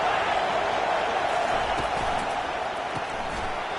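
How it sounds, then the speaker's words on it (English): A broad, steady video game stadium crowd roar during a college football game fills the whole stretch, loud and continuous with a faint bounce or thud now and then beneath it. "listen to the roar of this crowd"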